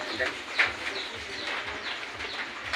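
Soft dove-like cooing and a few chirps sit under nearby conversation, with a low rumble throughout.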